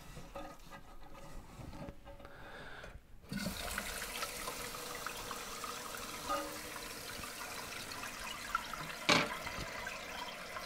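Water runs into the tank of a Kohler Wellworth 4512 toilet during flapper replacement and cleaning, a steady rushing hiss that starts abruptly after a quiet moment and continues loudly, with a few small clunks.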